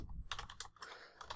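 A file name being typed on a computer keyboard while saving an image as JPG, a quick close run of crisp key clicks in short bursts, no voice.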